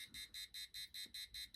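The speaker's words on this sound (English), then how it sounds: "the alarm goes off" Arduino intruder alarm buzzer beeping in a fast, even pulse, about eight shrill tones in under two seconds, loud and close with nothing else around it.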